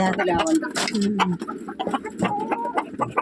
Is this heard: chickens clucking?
yes